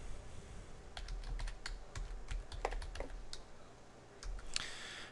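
Quiet close-up computer keyboard typing, an irregular run of light clicks and key taps as a command is entered, with a brief pause in the middle before a few more keystrokes.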